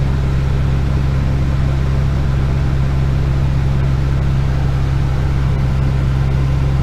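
A Storth slurry pump driven by a JCB Fastrac 3230 tractor runs in a steady, loud mechanical drone with a strong low hum and constant broadband rush, unchanging and close throughout, no speech.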